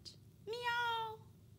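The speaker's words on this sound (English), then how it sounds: "That is a cat. Meow." A single clear cat meow, drawn out for about a second, close and fairly quiet against a faint background hum.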